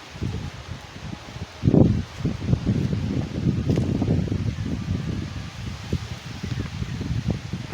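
Wind moves through coconut palms and leaves in an outdoor yard, a steady close rustle with a sharper gust near the start and a continuous soft rushing afterward.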